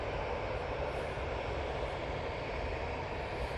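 Steady, continuous aircraft engine roar at Manchester Airport, a broad rumbling wash held at an even level throughout with no talk, likely a jet airliner such as a Boeing 787-9 Dreamliner taxiing or moving nearby.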